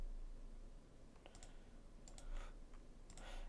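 A few sharp computer mouse clicks come in small clusters, quiet and close, over a faint steady background hum, with no talking.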